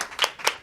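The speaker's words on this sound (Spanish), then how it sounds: "Un fuerte aplauso para él." Two or three quick hand claps sound close and sharp, a brief start of audience applause at a Spanish-language faith program.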